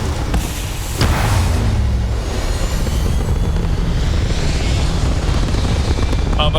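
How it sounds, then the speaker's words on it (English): Starfield spaceship taking off, a loud, steady roaring engine rumble with a thump near the start, building into a continuous dense drone that fills the whole stretch without pause. "Ready for takeoff"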